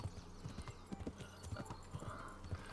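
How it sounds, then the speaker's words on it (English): Horse hooves clip-clop steadily in the medieval video game Kingdom Come: Deliverance, a brisk, close rhythmic trot that continues throughout with low background game ambience. "Why is my horse veering off?"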